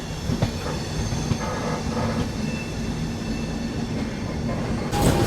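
The Garib Rath Express rolls steadily along the track on curves out of Lucknow, a continuous loud rumble of wheels and carriages with rhythmic clicks and occasional faint squeals, heard from on board.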